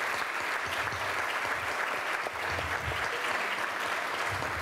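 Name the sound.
applause in an auditorium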